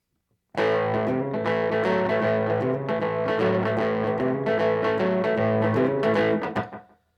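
Overdriven rockabilly electric guitar plays a bouncy, rhythmic riff through slapback delay, each note followed by a quick single echo, filling the space with a doubled, slapping attack.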